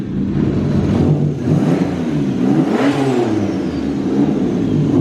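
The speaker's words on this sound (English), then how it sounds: "give it a rev." A car engine in neutral is revved several times, each blip rising and falling in pitch, loud and close with no talking.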